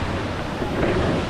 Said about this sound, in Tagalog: Ito na yung Pinmalangka or Pinmalangka Falls or Kabayawasan Falls.